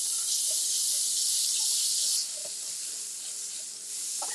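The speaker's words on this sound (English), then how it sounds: "I know y'all like that sizzle." Goat's milk butter melts and sizzles on a hot griddle before French toast sticks go on, a steady bright hiss that runs close and loud throughout, easing slightly partway through.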